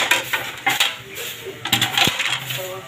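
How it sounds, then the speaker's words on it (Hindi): Dishes, pots and utensils clatter and clink in irregular bursts as they are washed in a home kitchen, with metallic knocks and scrapes close by throughout. "अभी हम लोग जो है बर्तन धो रहे हैं।"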